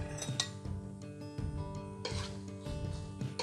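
Spoons clinking and scraping in a bowl as lettuce is gently tossed with a sweet dressing for a roasted beet, clementine and avocado salad, with repeated light metallic taps and rubbing, close and clear.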